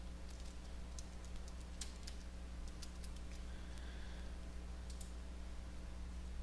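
Several quick, crisp mouse clicks in Google Sheets tick out irregularly over a faint steady electrical hum, with no one talking.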